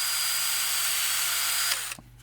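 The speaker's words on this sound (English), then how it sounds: "To drill those, I've got a 1/16 inch bit installed." Steady high whine of a power drill boring small holes into pine wood with a 1/16 inch bit, close and continuous for about two seconds before the motor cuts off.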